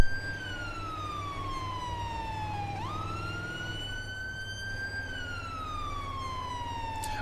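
Ambulance siren in a GTA San Andreas roleplay responding code, a loud continuous wailing tone that sweeps down and back up in long slow cycles over a steady low engine drone.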